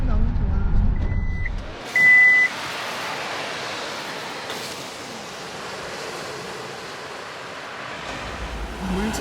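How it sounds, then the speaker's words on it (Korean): Sea waves roll in as a steady broad wash near a car parked in a lot by the coast at Mulchi near Sokcho, with a short electronic beep early on and a low engine rumble at the start and end. "해수욕장은 아닌데 앞에 바닷소리가 계속 이렇게 들리는"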